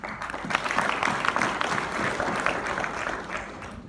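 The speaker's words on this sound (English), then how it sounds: "So a big round of applause for the OBS team." Sustained audience applause fills the room at a corporate event honoring a partner team, a dense, steady wash of clapping lasting the whole few seconds with no talk over it.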